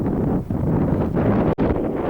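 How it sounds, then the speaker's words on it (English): Strong wind buffets a microphone outdoors on a hill circuit in Scotland, a steady loud roaring rumble with one brief dropout near the end and no voices. "Hopefully you can hear me above that wind."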